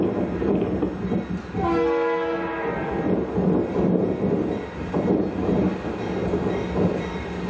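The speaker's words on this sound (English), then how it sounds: "to catch a northbound local rolling into town" A northbound local freight train rolls into Watseka, Illinois, with heavy rumbling wheels, a brief horn blast early on and steady rolling clatter throughout, fairly close.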